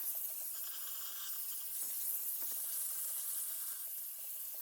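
A steam cleaner hisses steadily while a bathroom is cleaned, giving a soft, continuous, airy rush with faint clicks and knocks underneath and no voices.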